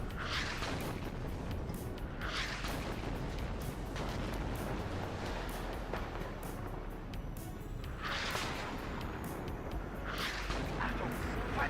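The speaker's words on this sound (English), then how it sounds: "Pretty explosions, everybody." Booming artillery explosions in the wartime strategy game WARNO, with several heavy broadband blasts rolling over a continuous dense rumble of battle noise.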